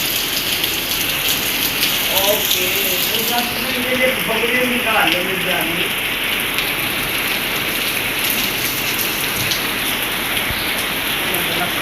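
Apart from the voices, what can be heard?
rain falling in Lahore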